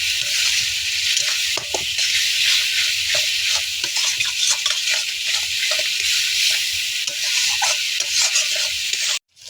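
Spices, chilli powder and a splash of water fry and get stirred in a pan while cooking potol chingri, with a steady bright sizzle and scraping stir strokes running continuously and close up until an abrupt stop at the end.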